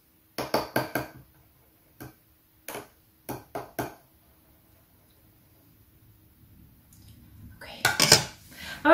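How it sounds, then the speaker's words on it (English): A spoon clinks against a glass of Irish coffee in a short burst of quick taps, then a few sparse clinks, a quiet pause, and a louder clatter near the end. "So, I'm going to stir it, guys."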